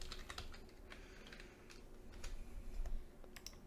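Typing on a computer keyboard, a steady run of quick, light key clicks spread over several seconds, close and fairly quiet against a faint background hum, with no one talking.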